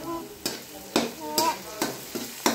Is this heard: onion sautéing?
yes